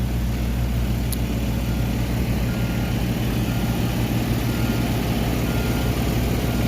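Pumps hum steadily at an iron-removal water treatment setup, feeding a collection tank and chemical coagulant pumps; a constant, loud low-pitched drone with no breaks, heard alone.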